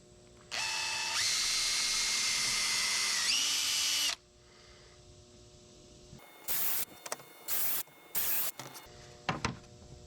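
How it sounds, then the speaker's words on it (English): A power drill whirs loudly for several seconds, its pitch rising as it drives in to fasten boards together, followed by a few short, quick bursts of drilling. "drill them together"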